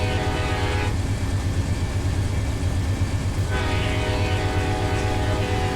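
A coal train in the Run 8 Train Simulator video game rumbles steadily at close range, its horn sounding two long blasts, one short at the start and a longer one near the end.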